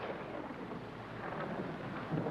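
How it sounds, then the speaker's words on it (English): Wind and a stormy rumble roar steadily as a faint, dense wash of noise with no distinct claps, the level swelling slightly toward the end. "The wind came up and the storm got worse."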